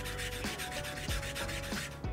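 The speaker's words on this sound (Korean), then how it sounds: "어디가 갈리는진 모르겠는데 이게 센서부가 갈리는 건지," The sensor area of an ultra-lightweight gaming mouse scrapes against the surface as it slides, a steady rasping rub with rhythmic strokes, close and quiet with no voices.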